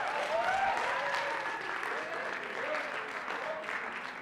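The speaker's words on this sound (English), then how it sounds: "let's give them a big round of applause again for an excellent job" An indoor audience at a college and career day panel applauds, a sustained wash of clapping with a voice talking over it.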